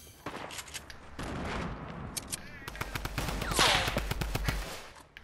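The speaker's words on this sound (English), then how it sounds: "This Tommy gun is so inaccurate." Tommy gun in the Fortnite video game firing in rapid bursts, sharp repeated cracks that build into a sustained stream of shots, with faint talk in the background.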